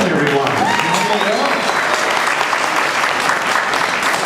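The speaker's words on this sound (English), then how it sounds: "Big round of applause" Audience at a magic show bursts into loud, sustained applause, a dense wash of clapping that carries on for several seconds with some cheering mixed in.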